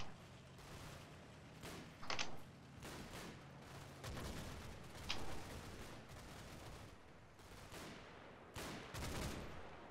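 Bursts of rifle and machine-gun fire in the WWII Normandy tactical game Combat Mission: Battle for Normandy, with irregular sharp cracks and short volleys repeating throughout, fairly distant and moderate in level.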